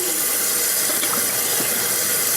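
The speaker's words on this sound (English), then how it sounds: "Just want to rinse it off, especially the inside." Tap water runs steadily into a sink while a whole raw turkey is rinsed inside and out, a continuous close splashing hiss with no pauses.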